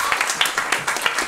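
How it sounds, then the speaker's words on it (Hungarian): Audience applause for a performer at an improv and slam show in Pécs: dense, steady clapping with small swells, filling the whole short stretch at moderate loudness. "tartson ki a taps!"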